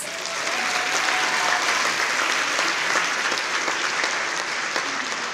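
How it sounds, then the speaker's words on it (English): A civic audience at a State of the City event applauds the acting city manager with dense, even clapping that holds loud and steady for several seconds, no voices over it. "Please give her a round of applause."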